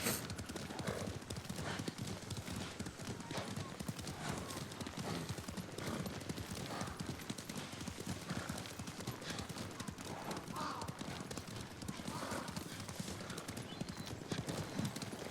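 Horse hooves clip-clop steadily throughout in the video game Ghost of Tsushima, a continuous rhythmic trotting mixed with an occasional whinny and other game sounds.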